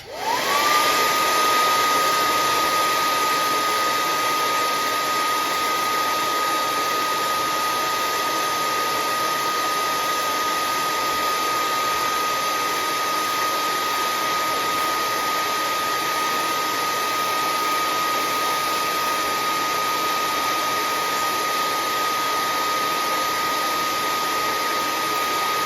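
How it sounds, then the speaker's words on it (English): A hair dryer runs steadily and loudly throughout, a constant airy roar with a high whine that never lets up. "The hairdryer is very loud on video"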